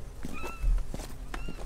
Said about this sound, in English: we've got a handful of, you know, cats here